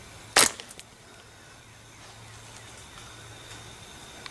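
An arrow whizzes past toward a bee nest, one sharp close swish and impact near the start, followed by a few faint ticks and then quiet outdoor ambience.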